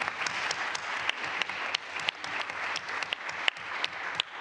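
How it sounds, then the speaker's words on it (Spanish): An audience at a Spanish Congress of Deputies family day event gives an ovation, sustained moderately loud clapping from a crowd with distinct sharp individual claps standing out throughout. "la primera ovación para ese ejemplo"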